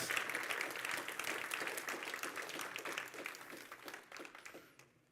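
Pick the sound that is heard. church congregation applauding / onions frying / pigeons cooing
church congregation applauding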